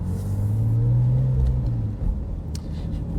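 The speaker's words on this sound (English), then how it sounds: "And the engine, at low revs, the engine sounds really smooth." A steady, low engine rumble at idle-level revs, smooth and close, with no talking.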